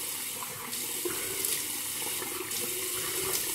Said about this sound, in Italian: Acqua fresca, sciacquiamo